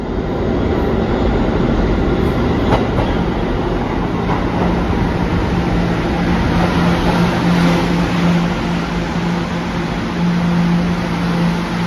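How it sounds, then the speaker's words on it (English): A New York subway train rumbles steadily through an underground station, loud and continuous, with a faint high squeal of wheels on rails. "Here's my train back to 34th Street."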